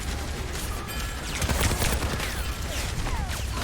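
Soldier 76's rifle firing in Overwatch, rapid continuous gunfire bursts mixed into a busy, loud match soundscape, close and dense with no talk.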